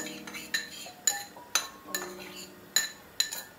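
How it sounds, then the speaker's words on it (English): A spoon stirs a mixture into milk in a cup, producing sharp, close metallic clinks about every half second against a quiet background. "I'm mixing it in here now with the milk"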